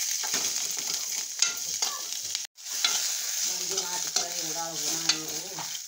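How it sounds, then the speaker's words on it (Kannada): Green chillies frying in oil in a kadai for a chickpea curry, giving a steady bright sizzle with scraping stirring strokes and a brief break partway through. "ಮೆಣಸಿನ್ಕಾಯಿ ಎಲ್ಲ ಫ್ರೈ ಆಗಿ ನೋಡ್ರಿ"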